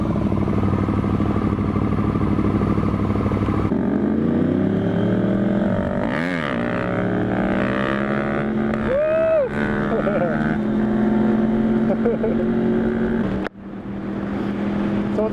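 A motorcycle doing wheelies, its engine droning steadily, then revving hard with rising and falling pitch swoops as the throttle is blipped, fairly close and loud, with voices talking over it.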